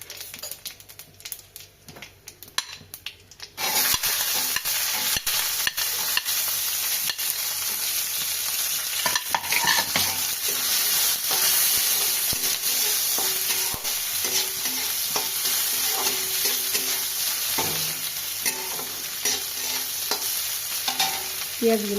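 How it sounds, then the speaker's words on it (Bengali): Onions sizzle in a hot kadai with dried chilli, bay leaf and cumin. The first few seconds are quiet, then a loud, continuous frying hiss begins, broken by the clatter of a spatula stirring, with no talk. "পেঁয়াজগুলো লাল করে ভেজে নেব।"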